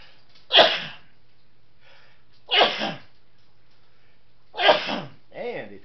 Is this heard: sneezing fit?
yes